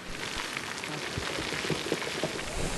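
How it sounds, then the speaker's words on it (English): Steady patter of artificial rain from rain machines on a film set falling on hard surfaces, a dense continuous hiss with scattered louder drops, close and without speech. "Start the rain. Starting the rain."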